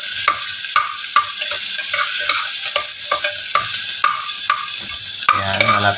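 Ginger sizzling loudly in hot oil in a pan while a utensil stirs it, with steady frying hiss broken by rhythmic scraping strokes, close and without voices.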